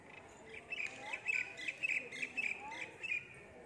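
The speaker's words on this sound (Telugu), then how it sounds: "పక్షులు కిలకిల రాగాలు" Small birds chirp repeatedly in a bright, steady chatter at the grounds of a temple ashram, moderately distant and soft against a quiet outdoor background.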